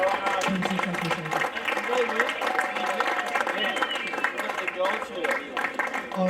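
Applause from a room at a football club's senior awards presentation night, a steady dense patter of many hands clapping over a murmur of voices throughout.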